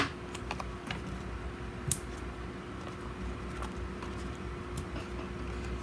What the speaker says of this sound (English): I'm actually going to snip the sides